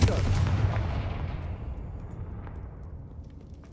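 A Confringo spell explodes in the Hogwarts Legacy video game on PC, a loud booming blast at the start that fades into a long, rumbling decay over several seconds.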